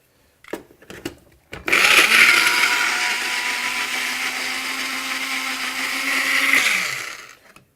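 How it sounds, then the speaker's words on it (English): After a few handling knocks, a blender roars loudly as it purees scallop and asparagus, holding a steady whirring grind for several seconds before spinning down. "you really want to kind of blitz this down as far as it'll go"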